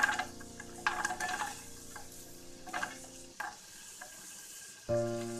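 Carrots hit a pan of browned onions for vegetable pulao, giving a close, crackling sizzle with repeated stirring scrapes that fades before a brief louder burst near the end.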